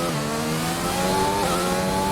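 An F1 race car in a video game accelerates hard through a corner during British GP qualifying, its high engine note climbing steadily as one loud, continuous whine.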